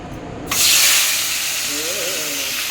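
Shankar fish (stingray) frying in a pan: a loud, sudden burst of sizzling hiss that starts abruptly and then holds steady, close and bright.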